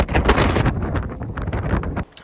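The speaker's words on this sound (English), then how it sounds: "It's so windy again." Strong wind buffets the microphone at a forest campsite, with loud gusty rumbling that holds for about two seconds and then drops away abruptly.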